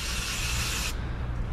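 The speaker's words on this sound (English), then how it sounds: "So I'm gonna give it a spray with brake cleaner to loosen it a bit" Brake cleaner sprayed onto a wheel rim to loosen old glue and grime: a steady, close aerosol hiss that cuts off abruptly, leaving a low background rumble.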